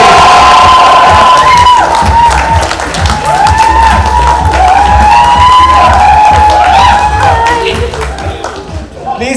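At a red carpet event, an audience breaks into loud cheering, whooping and applause, with high shouts and screams rising over sustained clapping that fades slightly toward the end.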